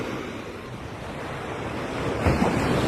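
Sea waves washing onto a busy beach on a bright morning, a steady broad rush of surf with wind noise across the microphone, swelling slightly louder toward the end, with no talk.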